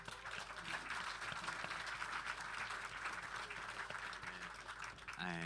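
An audience at a folk festival farewell concert in Orkney claps for the sound and filming crew, a steady, fairly quiet wash of applause that runs throughout and ends with a brief tonal sound.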